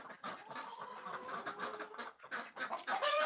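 Several farm chickens cluck in a busy, irregular chorus at close range with no talk, the calls overlapping and rising toward the end.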